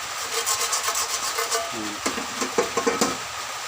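Rapid rhythmic sanding strokes rasp back and forth up close on a metal pot, then slow into a few separate, sharper scrapes.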